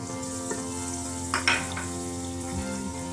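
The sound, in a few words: fish curry masala frying in oil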